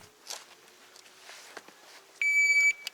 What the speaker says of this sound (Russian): Сигнал таймера уже прозвучал.